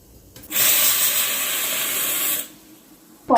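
A pressure cooker whistle while cooking dal: one sharp, loud burst of steam hiss lasting about two seconds, then cutting off abruptly, followed by a quiet pause and the start of another burst.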